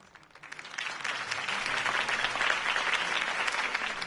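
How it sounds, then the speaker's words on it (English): Crowd applause in a Batman video game swells in after a quiet start and holds as dense, continuous clapping, fairly distant and evenly sustained. "could have heard that applause"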